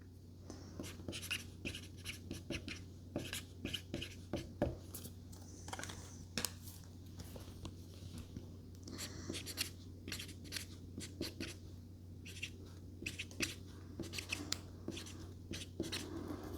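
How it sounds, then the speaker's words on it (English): A pen moves across paper while thank-you notes are handwritten at a desk during order packing for a small vintage home decor shop; soft, continuous scratchy strokes with light rustles, close and quiet, no talking. "All right, let's write our little thank you notes."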